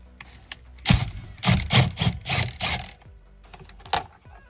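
A ratchet clicks in quick close bursts while loosening the 16mm steering wheel bolt on a BMW E60 M5, with short pauses between the strokes.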